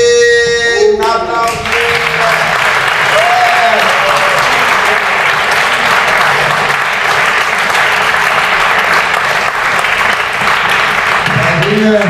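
Loud, sustained applause from a poetry slam crowd at the Heldenbar, a continuous wash of clapping that runs the whole length, with a voice speaking briefly at the start and again near the end.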